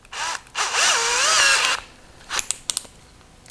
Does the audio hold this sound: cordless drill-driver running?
yes